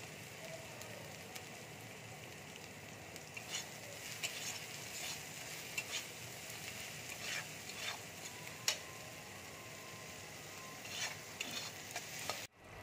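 Spices frying together in a pan with oil and salt, a steady soft sizzle with occasional stirring clicks and scrapes, fairly faint and close, with no talking.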